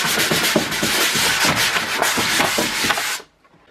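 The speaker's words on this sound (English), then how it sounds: "all we're going to do now is just simply sand it flat" A skimmed drywall patch over a doorknob hole is sanded flat by hand in loud, close, rhythmic back-and-forth strokes that stop abruptly near the end, with no speech.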